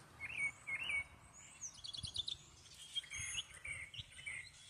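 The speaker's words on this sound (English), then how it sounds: "I wanted you to hear the birds. They're just going crazy, having some fun, chirping." Several birds chirp and trill outdoors on a rainy day, bursts of bright calls coming and going from moderate distance over a soft background patter, with no talking.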